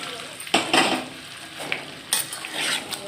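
Potatoes get stirred in a pan on the stove in a few scraping, clattering bursts of spatula against metal, with a soft sizzle in the gaps between strokes.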